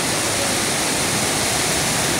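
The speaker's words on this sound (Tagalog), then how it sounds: "Grabe lakas ng ulan dito guys." A dense, unbroken roar of heavy rain pours down throughout, loud and steady with no voices.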